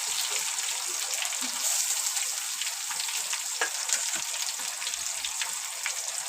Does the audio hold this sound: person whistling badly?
no